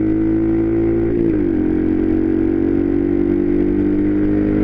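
A BadBoy 50 mini bike pulls toward top speed up a hill. Its small engine drones loudly and continuously, the pitch dipping briefly and then climbing again, heard up close without talk.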